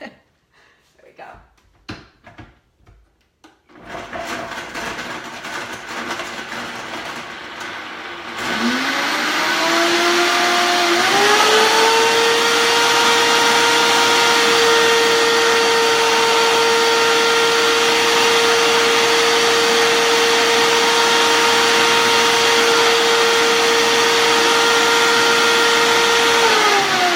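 A blender whirs loudly and steadily while blending a papaya face mask, starting after some brief handling noise and holding a continuous high motor drone with a slight pitch rise partway through.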